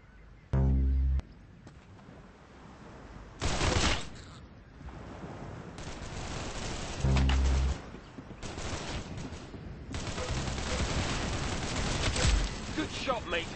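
Gunfire in the online shooter Arsenal: several loud bursts of shots come at intervals, the sharpest around the start and middle, over a steady background of game noise and rumbling action.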